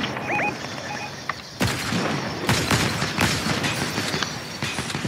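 Repeated rifle gunshots in Fortnite sound as sharp, loud broadband cracks at irregular intervals, with a dense crackling game soundscape filling the gaps between shots.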